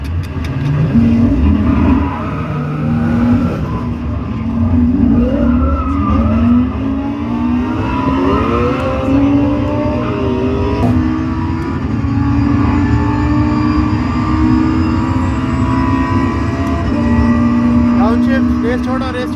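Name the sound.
race cars accelerating at a motorsport race event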